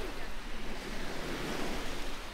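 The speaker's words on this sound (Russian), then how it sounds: "Ветер достаточно сильный." Strong wind sweeps over the Sea of Azov shore as waves wash in, a continuous loud roar of surf and gusting air buffeting the microphone.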